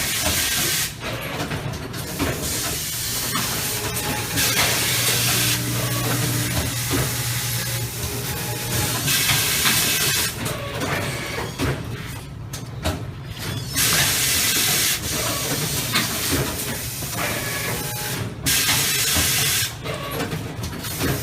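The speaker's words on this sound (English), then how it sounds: "he's going to show you how the machine runs automatically and sews the pieces together" Automatic bag sewing machine running in an ISOBAG factory, loud hissing and rattling mechanical cycles with repeated bursts and pauses, continuous machinery noise with no talking.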